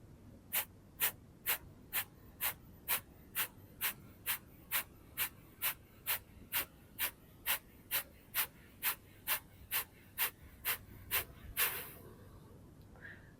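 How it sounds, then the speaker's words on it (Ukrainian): Kapalabhati yoga breathing: a steady series of about twenty-two short, forceful nasal exhalations, evenly spaced and close, ending in a longer breath out, with no talking. "Це активне скорочення м'язів живота при видисі."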